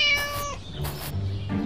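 A cat meows in the Scary Teacher 3D video game, two drawn-out, clear meows close up and then a short third cry, heard alone with no talking.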